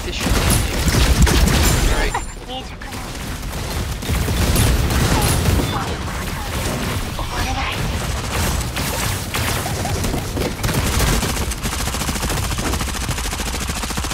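Gunfire from practice shooting in the mecha battle royale game Super Mecha Champion, dense bursts of shots running steadily throughout at a loud level, with talk mixed in over it.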